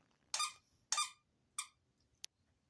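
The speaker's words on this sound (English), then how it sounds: "Oh, there's the puppy playing with her squeaky toy again." A puppy plays with a squeaky toy indoors, producing three clear, sharp squeaks close by followed by a brief fainter chirp, with quiet gaps between and no talk.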